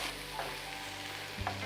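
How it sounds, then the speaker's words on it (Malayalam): Crushed garlic, green chilli and ginger stir-fried in a pan for a Lakshadweep-style chicken biryani masala, a steady low sizzle with a couple of faint scraping stirs, no voices. "ചതച്ച് വെച്ച വെളുത്തുള്ളി, പച്ചമുളക്, ഇഞ്ചി 3 ചേരുവകളും ചേർത്ത് ഒരു 2 മിനിറ്റ് ഇങ്ങനെ ഇളക്കി കൊടുക്കണം"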